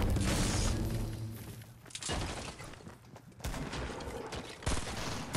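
Rapid gunfire in Fortnite, dense bursts of shots and cracks in several loud clusters, some close and sharp, across the whole stretch with little talk.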